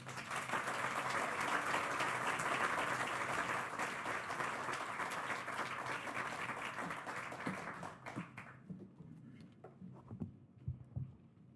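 An audience applauding to welcome speakers at a UMass nursing college event, dense steady clapping from a crowd that gradually fades into scattered claps and quiet room noise.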